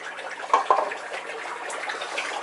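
Water with Ginga rubra shrimp poured into a small pond tub in a greenhouse, a soft continuous splashing pour with a couple of brief louder gushes early on.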